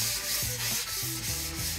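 Sandpaper rubbed back and forth over a faux marble countertop finish, steady hissing abrasive strokes with a rhythmic scrubbing pattern, close and alone with no talk.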